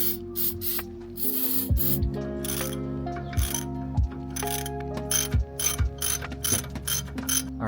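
A ratchet wrench loosens bolts on a 1996 Toyota Hilux pickup truck, giving repeated bursts of quick metallic clicking with a few sharper clanks between strokes, close and fairly loud.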